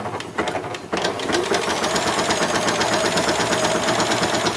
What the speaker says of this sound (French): On coud le bord de finition sur l'encolure.